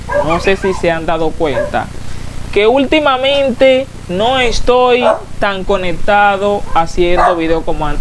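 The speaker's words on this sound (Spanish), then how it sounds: "ese es mi perro que está ahí." A pet dog barks and yips in short bursts in the background of a room while someone talks continuously in Spanish over it.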